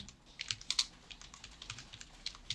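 Quiet clicks and taps come from a computer keyboard as Korean layer names are typed into image-editing software, a light, irregular patter of keystrokes heard up close with no voice.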